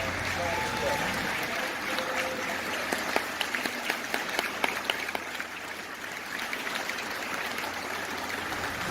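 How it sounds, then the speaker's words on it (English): Convention audience at an NAACP gathering applauding, a dense wash of clapping with scattered sharper claps standing out midway, fairly distant, with a voice speaking over it. "Please stand on your feet and give him a much round of applause."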